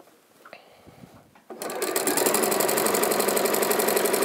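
Sewing machine stitching quilt fabric strips sewn right sides together for a Bargello quilt, starting after a few soft handling clicks and then running at a steady, fast, even rhythm, close and alone.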